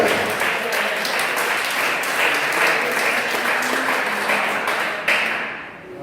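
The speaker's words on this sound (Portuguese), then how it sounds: "Dá uma salva de palmas a Jesus, que Ele é fiel" A church congregation breaks into loud, sustained applause, a dense wash of clapping that holds steady for several seconds before thinning out at the end.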